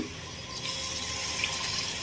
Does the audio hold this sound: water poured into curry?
yes